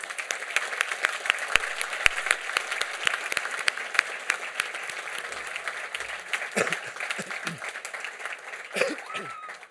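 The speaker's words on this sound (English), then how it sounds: "please join me in a warm applause in honor of today's graduates." Audience applause at a university commencement ceremony, a steady wash of many hands clapping throughout with scattered voices and faint chatter mixed in near the end.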